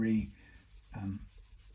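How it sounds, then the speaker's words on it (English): Two short strokes of sandpaper rubbing over wood on a Fender MIM Precision bass, close up, with a brief pause between them. "I'll just do a quick sand down there"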